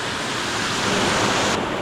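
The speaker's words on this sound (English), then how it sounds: "Alright, it's got a little cascade on top." A small waterfall cascade in the Blue Mountains, Australia, heard as a steady, dense rush of falling water, close and continuous without a break.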